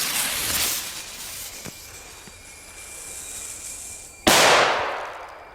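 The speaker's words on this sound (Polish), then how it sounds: "petardy Zeny produkowane w Albanii naprawdę mają moc" A small Albanian-made Zena firecracker goes off with one sharp, loud bang near the end, following a fainter crack earlier amid outdoor background noise; no one speaks.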